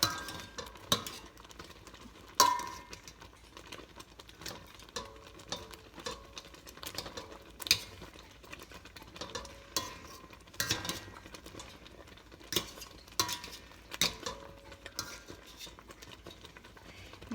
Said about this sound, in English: I'm going to take a potato masher and just smash